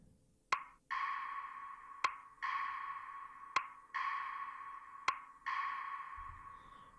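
Four sharp percussive hits from a sample at a steady tempo, each trailed by a bright, sustained tempo-delayed reverb tail that swells after a short gap, with no voice.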